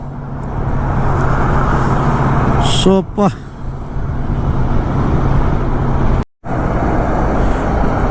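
Continuous road traffic in Bangalore city rumbles loud and close, with a brief horn-like tone partway through. Someone talks over the steady roar of engines.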